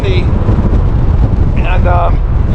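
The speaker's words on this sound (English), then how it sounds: "It's like extremely windy," Strong gusts buffet the microphone on an abandoned railroad trestle over the Columbia River, a loud, continuous low roar with brief voices breaking through.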